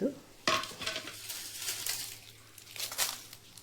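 Spices dry-roasting in a pan for a masala powder, with garlic and bay leaf mentioned, stirred by hand: scraping stirs and light crackling sizzle, close and moderate, with sharper scrapes at intervals and no talking.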